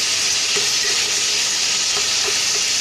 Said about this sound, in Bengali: টমেটোটাকে ভালো করে নাড়তে হবে এর সাথে